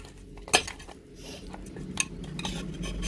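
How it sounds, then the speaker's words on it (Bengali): Pieces of katla fish are rubbed with salt and turmeric in a bowl, with soft wet mixing punctuated by a few sharp clinks against the dish, close and intermittent. "আমি এখন মাছগুলোকে নুন হলুদ দিয়ে সুন্দরভাবে মেখে নিচ্ছি"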